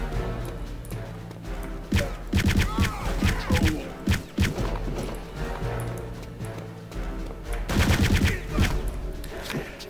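Sten submachine gun fire in Return to Castle Wolfenstein, loud rapid bursts of automatic shots repeating throughout with dense clatter and booming thuds, no talking.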